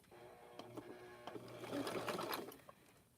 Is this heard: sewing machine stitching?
yes